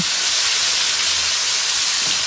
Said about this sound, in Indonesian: kita mau tumis bumbu yang sudah tadi kita haluskan sampai nanti wangi